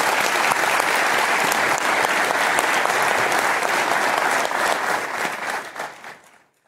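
A large convocation audience applauds award recipients at an MLK event, loud sustained clapping that holds steady before thinning out and fading away at the end.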